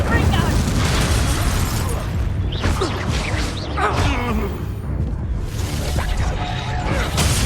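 A fiery spell cast in the Hogwarts Legacy video game bursts with booming, whooshing blasts over a dense, continuous layer of game noise and speech-like voices throughout.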